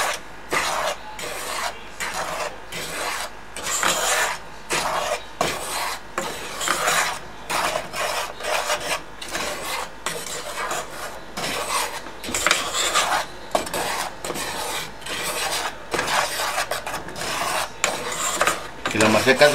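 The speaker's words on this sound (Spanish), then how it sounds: "Y la vamos a tostar. Meneándola constantemente con un meneador plástico." Maseca corn flour being toasted in a pan while a plastic stirrer scrapes constantly, making a steady rhythmic rasping and rubbing that runs close and fairly loud throughout.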